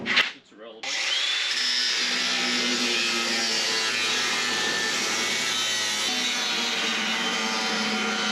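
A hand saw cuts through the floor panel of a 1955 Chevy Nomad, a steady close grinding rasp that starts after a brief clatter and keeps going unbroken.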